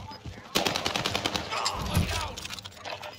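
Call of Duty gunfire, loud rapid bursts of automatic shots rattling close by for several seconds, with voices talking over the shooting.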